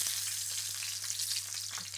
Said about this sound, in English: You can hear that, see how that's sizzling?